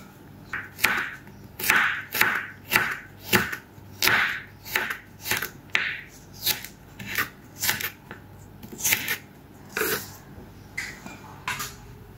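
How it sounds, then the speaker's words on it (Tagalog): A knife chops lettuce into small pieces on a cutting board for a crispy chicken salad, about twenty crisp close strokes in an irregular rhythm, with no talking. "Lettuce naman yung ating sunod na hiwain. Hiwain din natin siya na maliliit."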